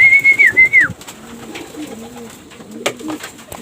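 A racing pigeon at an open derby race in Bulan, Sorsogon coos close and loud in a few soft, throaty rolls, with a bright whistle-like call at the start and no talk.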